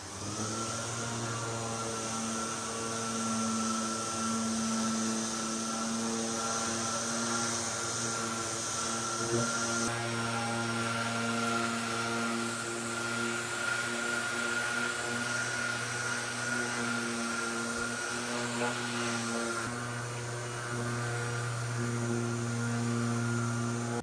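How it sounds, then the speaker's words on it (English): A random orbit sander fitted with 180 grit paper works over planed timber for a building frame, giving a steady droning motor hum with a faint rasp on top. It runs continuously at moderate level, with a brief change in tone near the end. "I'm just going to dust over them with the 180 grip random orbit."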